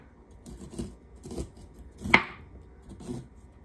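A knife cuts through fresh corn on a cutting board, giving a few soft scraping strokes with one sharper crunch in the middle, fairly close and with no talking.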